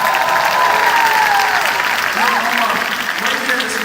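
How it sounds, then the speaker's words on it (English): Graduating crowd applauding and cheering at a Master of Education commencement ceremony, loud sustained clapping with whoops and voices rising through it. "give yourself a round of applause"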